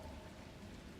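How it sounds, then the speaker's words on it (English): Soft, constant patter of rain from the video game The Last Caretaker, a faint, even wash of falling drops with no voices over it. "Oh, look, it's, wow, more rain."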